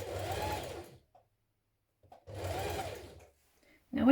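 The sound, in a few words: sewing machine stitching a seam on a top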